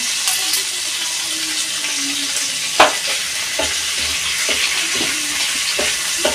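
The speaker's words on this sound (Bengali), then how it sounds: "ফোড়নটা আমি ভালো করে ভেজে নেব।" Whole cumin, a dried red chilli and a bay leaf crackle in hot oil as a tempering beside potatoes and fish, a close steady sizzle with sharp spoon knocks against the pan and scattered stirring scrapes.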